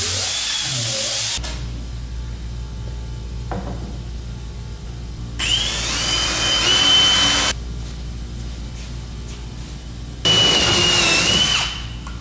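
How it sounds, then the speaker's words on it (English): A power drill bores into a car's flake-finish nose piece during fitting in a workshop, in two loud bursts of high whining with quieter handling and shop noise between them. "we'll go and drill that"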